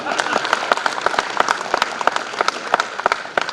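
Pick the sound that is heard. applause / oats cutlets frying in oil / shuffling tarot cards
applause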